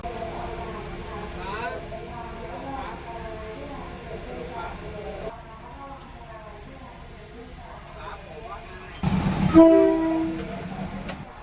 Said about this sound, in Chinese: 随着一声长长的鸣笛，老旧的车厢发出沉重的隆隆声，我们的列车终于缓慢启动了。